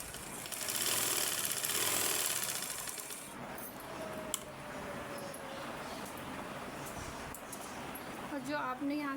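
A sewing machine stitches a straight seam with a fast, steady mechanical whir that fades into faint clatter, while someone talks over it.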